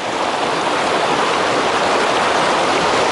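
A small stream flows beside a road in Russia, giving a steady, close, rushing hiss of water with no speech over it.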